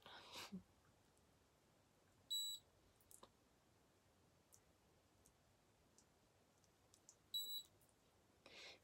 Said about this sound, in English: Any beeps every 30 seconds just to let you know the treatment's happening